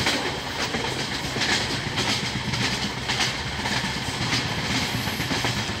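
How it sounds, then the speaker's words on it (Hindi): Vaishali Superfast Express (12554) passing through Dighwara station at speed without stopping, a loud continuous roar of wheels and wagons with steady rhythmic clickety-clack close by, filling the whole stretch. "आ गई वैशाली सुपरफास्ट एक्सप्रेस कुछ ही देर में, देख लीजिए।"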